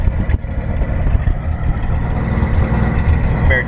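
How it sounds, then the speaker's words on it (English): A 1958 Chevrolet Apache pickup with solid lifters idles loudly at close range, its exhaust giving a steady low rumble with an even, lumpy pulse throughout. "Give you sound of the exhaust."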